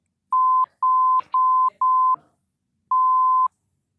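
Censor bleeps over swear words on a cricket podcast: five identical steady electronic tones, four in quick succession and one after a short pause, with faint clipped speech fragments between them.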